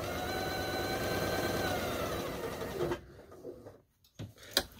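A sewing machine hums in a rapid, steady run while tacking down fabric on a Christmas pillow, then stops after about three seconds, followed by a few faint handling clicks.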